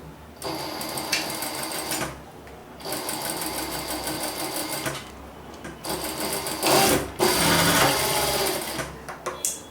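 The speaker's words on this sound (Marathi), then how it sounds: "याप्रमाणे मार्किंग करून घेतल्यानंतर बरोबर मार्किंगवर आपण शिलाई घेणार आहोत" A sewing machine stitches piping along a marked line in bursts, loud rapid mechanical whirring runs with short pauses between them, close up and without talk.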